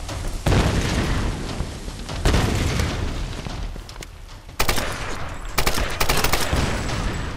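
Gunfire erupts in the Tomb Raider video game in loud, close bursts, with a few sharp shot volleys and booming impacts separated by brief lulls filled with game ambience.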